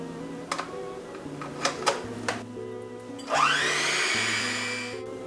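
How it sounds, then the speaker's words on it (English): A hand mixer with a whisk attachment starts whipping egg whites for a vegan Yule log, rising into a steady high whirring drone after a few clicks and knocks, close and fairly loud. "I'm going to put the whisk attachment on my hand mixer and start mixing that"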